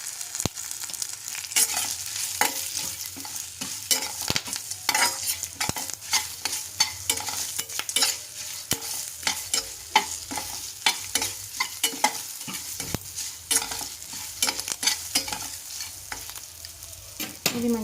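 Ajwain rice with turmeric and salt fries in a pan under constant, close stirring: a busy stream of rapid scrapes and clicks rides over a continuous hiss of sizzling.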